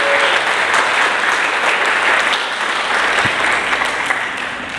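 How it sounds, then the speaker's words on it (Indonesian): A church congregation claps steadily for a 32nd anniversary, dense, even applause filling the room at full volume from start to finish, with no voices standing out. "Berikan tepuk tangan bagi ulang tahun ke-32"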